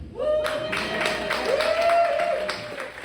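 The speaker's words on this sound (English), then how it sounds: "feel free to clap one more time in support of Dad." Audience at a stand-up comedy show breaks into applause, dense steady clapping filling the room with a sustained tone running underneath.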